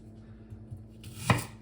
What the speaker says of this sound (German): So, die Gemüsezwiebel fein hacken.